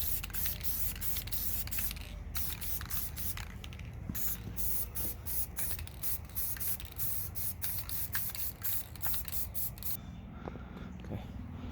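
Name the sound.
spray paint coat on RC Jeep Wrangler body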